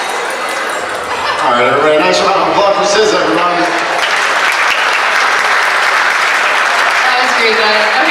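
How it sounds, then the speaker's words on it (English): Wedding guests applauding after a speech at a reception in Freeport, Pennsylvania: talking and cheering at first, then a loud, sustained swell of dense clapping filling the room. "nice round of applause for Sis, everyone."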